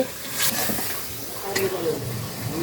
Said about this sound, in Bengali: এখন এই মশলাটা ভালো করে কষাতে হবে